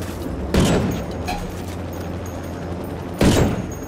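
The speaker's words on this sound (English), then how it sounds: "Shoot out the tires!" Two heavy broadband gunshot blasts, around half a second and three seconds in, ring out in Ghost Recon Wildlands as shots are fired at a vehicle's tires, each with a lingering rumble over a steady background hum.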